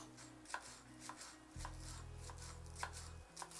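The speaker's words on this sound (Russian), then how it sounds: "Мелко нарезаю немножко зеленого лука." A knife finely chopping green onion on a cutting board: quick, light, evenly spaced taps, fairly quiet and close, over a low steady hum with no talking.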